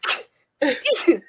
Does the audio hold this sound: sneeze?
yes